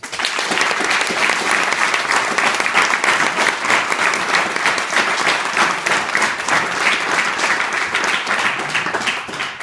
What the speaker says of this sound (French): J'aimerais avoir une main d'applaudissements.